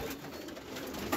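Pigeons coo softly in a loft, a faint low murmuring coo in a short, quiet moment.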